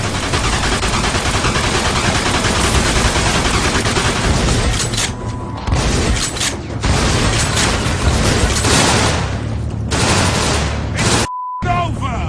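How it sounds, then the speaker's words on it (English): Dense, sustained gunfire from a Mafia 2 firefight, rapid automatic bursts and booming shots layered loudly and continuously, with brief gaps and a short silent break near the end. "They're shooting at me, for Christ's sakes."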